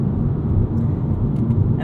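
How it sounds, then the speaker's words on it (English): Inside a 2021 BMW M2 Competition with DCT, Michelin Pilot Super Sport tires give a loud, steady low roar of road noise that fills the cabin without a break. "Quite a lot of tire noise from these Pilot Super Sports"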